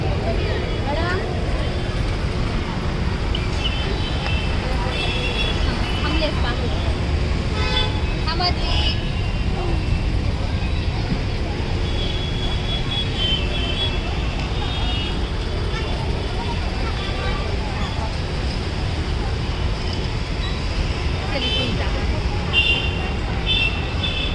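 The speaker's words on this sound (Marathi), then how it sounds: "त्या आवाज एवढा डेंजर येत होता ना म्हणजे गाड्यांचा" Busy road traffic near a mall on New Year's, a continuous rumble of passing cars and buses with scattered horn toots, while a person talks close by over the din.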